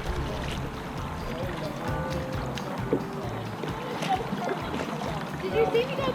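Kayak paddle strokes splash and swish through shallow water on Swatara Creek in Swatara State Park, with a steady run of water sound and a few sharper splashes, under occasional voices nearby.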